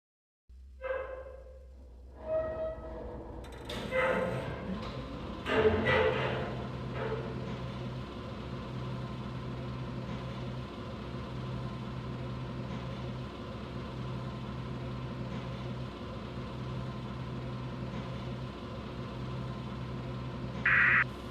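A passenger hoist descends into a tunnel under construction in a VR app: a few clunks and mechanical starts give way to a steady mid-low motor hum and rumble that runs on evenly, ending with a brief higher tone.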